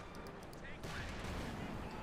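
Pak 40 anti-tank gun fire in Company of Heroes 2, heard as heavy booming shots buried in a dense, continuous wash of battle noise that swells louder halfway through, with a voice faintly over it.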